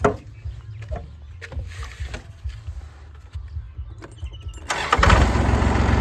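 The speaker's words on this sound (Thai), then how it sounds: "เครื่องติดง่ายนะครับผม" A Kubota L3408DI diesel tractor engine from 2009 cranks with uneven knocking clatters, then catches easily without glow plug preheating and settles into a loud, steady running roar.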